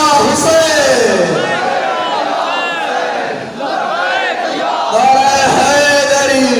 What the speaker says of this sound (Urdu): مجلس ہے نا تو لبیک یا حسین کے نعرے جچتے ہیں، بلند آواز سے لبیک یا حسین،